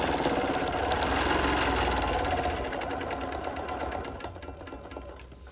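Sewing machine stitching a flowering prism quilt, running at a fast steady rhythm with a dense mechanical chatter that holds strong, then gradually slows and quiets toward the end as the stitching winds down.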